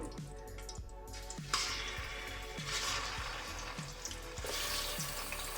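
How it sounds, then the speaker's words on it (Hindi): Chicken sizzles and fries steadily in oil in a pot for a desi murgh shorba, with a continuous crackling hiss and occasional louder spits, no talking over it. "डाल के इसको मैं थोड़ा फ्राई कर लूँगी"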